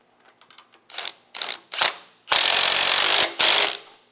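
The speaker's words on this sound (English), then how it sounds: "go ahead and you'll tighten this bolt up." A ratchet tightens a bolt on the front wheel of a Tilmor 520 tractor. It starts with a few light clicks, then gives several short bursts of rapid ratcheting, and ends with two longer, loud stretches of close, continuous clicking.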